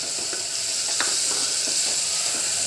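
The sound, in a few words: onions and tomato sautéing in a pan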